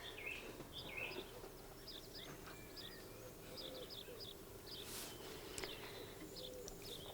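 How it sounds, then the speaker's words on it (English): A blackbird sings faint, high chirping phrases repeated throughout, set back in a quiet outdoor scene with a low background hiss. "Look, there's a blackbird"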